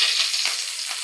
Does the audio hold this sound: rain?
no